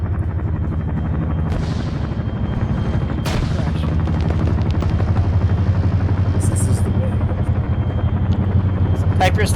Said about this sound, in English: I can't hear you over the chopper right now